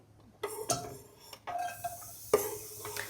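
Onions going into a pan to sauté over very low heat, a few light clinks and taps of utensils against cookware spaced out over a quiet kitchen background, no talk.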